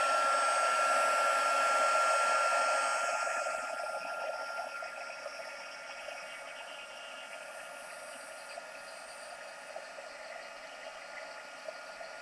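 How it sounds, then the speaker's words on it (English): A heat emboss gun blows a steady, loud whooshing roar right up close, dropping a little in level after a few seconds and then holding an even hum to the end. "excuse me for a sec while I just turn this emboss gun on"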